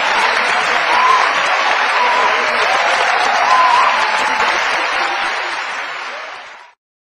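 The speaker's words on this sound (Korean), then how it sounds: "따뜻하게 우렁찬 박수로 저를 맞이해 주셔서 대단히 감사합니다" Loud, sustained applause from a large university lecture audience, steady and enthusiastic, fading out at the end.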